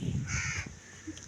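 A single crow near a garden of aloe vera plants gives a loud, harsh caw close by, with a brief softer call trailing after.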